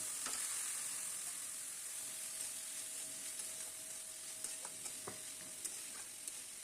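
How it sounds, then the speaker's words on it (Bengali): Boiled plantain flower added to a pan with frying potatoes, giving a quiet continuous sizzle with a few faint pops and stirring taps, fairly soft and steady, no talking. "এবার আমি সেদ্ধ করে রাখা মোচা দিয়ে দেব।"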